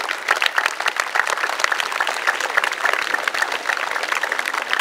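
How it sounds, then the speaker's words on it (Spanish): A crowd at a school book-handover ceremony at CECyTEH in Ixmiquilpan, Hidalgo, claps steadily: a dense, even wash of many hands applauding from start to finish with no talk. "Fuerte aplauso para ellos."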